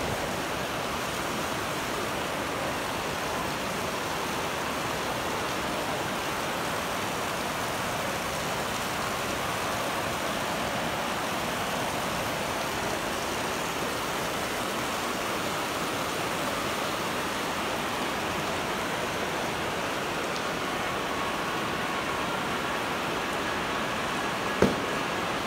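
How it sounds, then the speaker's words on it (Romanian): Heavy rain pours inside the Gara de Nord train station in Bucharest, a dense, steady hiss of falling and splashing water that holds at an even level throughout, with one brief knock near the end and no talking. "Păi uite cum plouă în gara."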